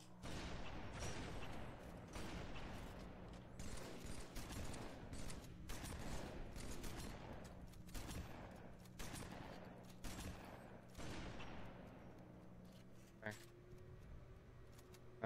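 Weapons fire in Halo 2 Anniversary crackles in rapid bursts of repeated shots over a low engine-like hum. It runs steadily at moderate loudness while a player talks intermittently.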